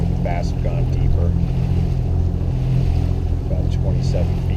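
A motorboat drones steadily on Quail Creek reservoir in Utah, its engine a loud, constant low hum close by, while someone talks intermittently over it.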